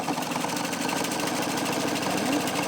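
A sewing machine stitches a simple fabric shopping bag with a steady, continuous whirring motor hum and fast mechanical rhythm, close and fairly loud.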